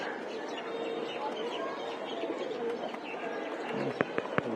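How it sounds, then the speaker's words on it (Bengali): Many racing pigeons gathered on a rooftop coo and flutter nearby, with soft overlapping calls, a voice talking faintly underneath, and a few sharp knocks near the end. "ছাদে একদম কবুতর আইছে অনেকগুলা"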